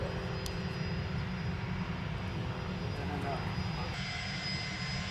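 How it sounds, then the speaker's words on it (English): Airplanes from an airport just behind a golf course fly over as a steady, distant jet engine roar, a constant rumble filling the background throughout. "You hear the planes from the airport right behind us."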